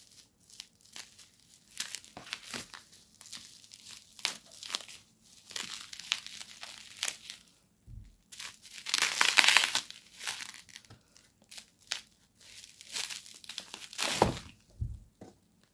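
A plastic mailer bag from a delivered parcel is torn open and handled, giving close, intermittent crinkling and ripping bursts with a louder tearing stretch midway and quiet gaps between.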